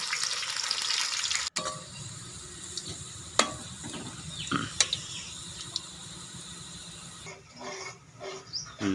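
Onions sizzle steadily in hot ghee in a pot, with a constant crackling hiss broken by a few sharp clinks and scrapes of stirring.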